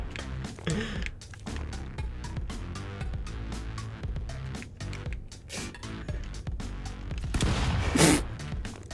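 Hand cannon shots in the Stick Fight game, sharp blasts scattered through a busy mix of game effects and background music, with a louder burst near the end.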